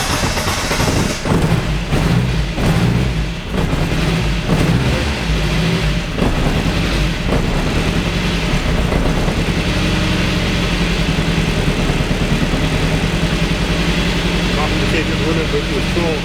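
An Austin Mk1 engine fitted with an Arden 8-port head cranks, fires and settles into a steady, close idle, with a voice speaking at times over the running engine.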